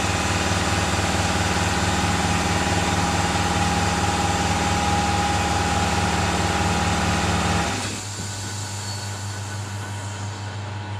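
An air compressor runs loud and steady in a workshop with a throbbing motor hum, then drops to a quieter, lower running level about three-quarters of the way through, with no talk.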